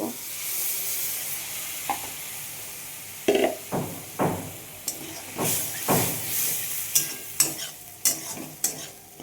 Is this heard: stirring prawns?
yes